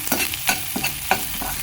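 Garlic and ginger frying in melted butter in a pan, a steady sizzle broken by several sharp scraping stirs at an uneven pace, close and fairly loud with no voices.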